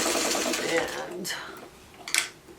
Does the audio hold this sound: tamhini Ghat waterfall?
no